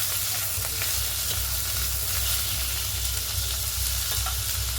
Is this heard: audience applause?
no